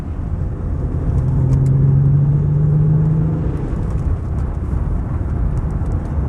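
A Range Rover Sport accelerates away with a loud, steady engine roar that swells and then eases off as the SUV pulls away, with no talk over it.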